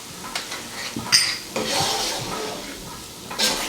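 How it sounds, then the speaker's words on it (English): A spoon stirs spices, red chili powder and salt into rice and cannellini beans in a pot, giving a few scattered scraping clinks and a soft rubbing swish against the metal, close by and with no talking. "Just mix that up real nicely so that all the flavors are well blended."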